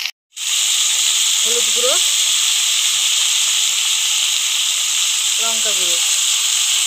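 Small fish cooking in a pan with spices for a Bengali greens and fish chorchori, giving a loud, steady sizzle and hiss throughout while a voice speaks briefly over it.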